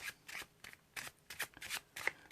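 A deck of playing cards is shuffled by hand during a card trick, giving a quick run of soft riffling bursts with short pauses between them, close and fairly quiet.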